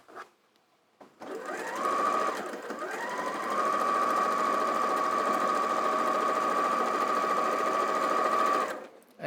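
A Janome 560 sewing machine stitches quilt strip sets in a long steady whirring run, starting and pausing briefly before settling into continuous close, loud sewing that stops cleanly at the end.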